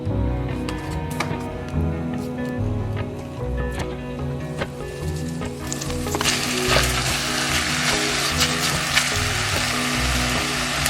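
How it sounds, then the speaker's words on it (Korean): A rib steak frying in a pan gives a steady, close sizzle with scattered pops and utensil scrapes, growing louder and denser partway through, with no talking. "여기 빨간색이 없어질 때까지만 볶을 건데요."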